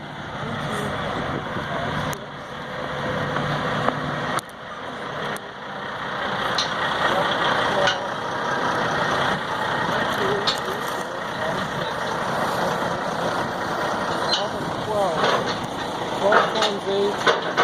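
A 124-wheel heavy haul truck rolls through town in a steady, continuous engine rumble and road roar that stays loud throughout, with people talking over it.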